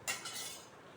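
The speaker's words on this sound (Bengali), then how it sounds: "এবার আমি বড়িগুলোকে নামিয়ে প্লেটে নিয়ে নিচ্ছি।" Fried lentil dumplings (bori) transferred onto a plate, giving a quick metallic clink of a utensil against the dish followed by faint scraping and rustle, close and quiet.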